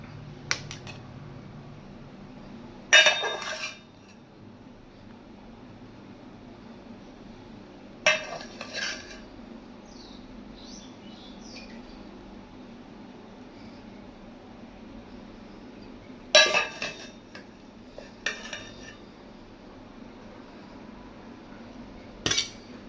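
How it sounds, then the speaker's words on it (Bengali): Rice served onto a plate at home, with a few scattered bursts of metal utensils clinking and scraping against dishes amid long quiet gaps. "এবার আমি আমার জন্য ভাত বেড়ে দেবো।"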